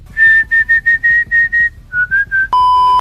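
A person whistles a short run of clear, evenly spaced notes, pauses briefly, adds a few more, then ends on one long held tone, loud and close with no other sounds.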